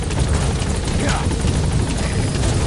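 Support helicopter rotor in the Metal Gear video game, a loud steady chopping drone that fills the whole stretch without a break.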